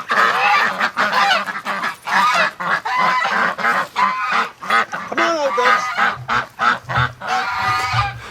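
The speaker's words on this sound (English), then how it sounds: "2 Chinese geese." Two newly hatched Chinese geese honk loudly and close by, a rapid series of sharp, nasal calls that overlap and repeat without pause across the whole stretch, with no voices.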